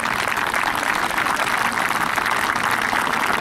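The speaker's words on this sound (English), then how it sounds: "if you can just give Pete a round of applause" A crowd at a softball opening day gives a sustained round of applause, dense and even clapping filling the moment from start to finish without talk.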